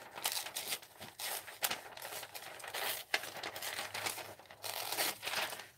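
Scissors snip and rustle through paper, cutting out paper pumpkins for an art journal page, with a steady run of close, crisp crinkling cuts and paper handling at low volume.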